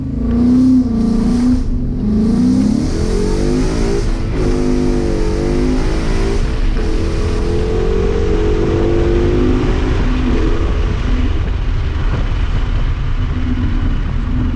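Ford Mustang with an MT-82 manual gearbox, its engine held at about 3000 rpm for a dig launch: a loud, steady mid-range rev with rising and falling harmonics and a rumbling drone throughout, no talking.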